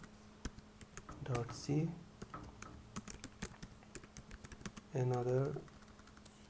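Computer keyboard keys clack in quick, irregular bursts throughout, close and crisp, while someone talks over them in two short phrases.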